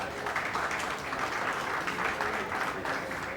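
Audience at a poetry festival applauding, a dense steady wash of many hands clapping throughout, fairly near and even in loudness.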